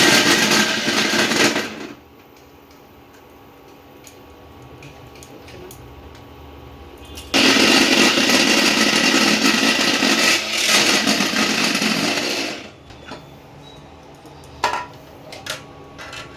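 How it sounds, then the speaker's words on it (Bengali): Electric mixer grinder briefly pulses palm fruit pulp into a coarse paste for payesh, loud whirring bursts separated by quiet pauses and small kitchen clatter. "মিক্সিতে একবার একটু ঘুরিয়ে, একেবারে মিহি পেস্ট করবে না, অল্প সামান্য সামান্য একটু পেস্ট করে দেবে।"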